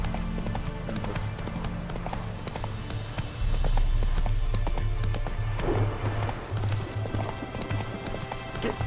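Steady clip-clop of horse hooves trotting at an even rhythm in the video game The Witcher 3, close and fairly loud, over a busy background of ambient noise and music.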